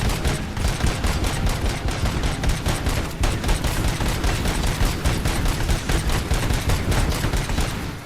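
Cluster missiles explode in the RoboCop: Rogue City video game as a dense, continuous barrage of rapid blasts and crackling bursts, loud and sustained with no pauses.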